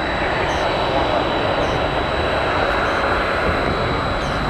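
A Boeing 767 heavy jet approaching at an airport fills the air with a loud, steady broadband roar and whine of engines, continuous and close, with no voices over it.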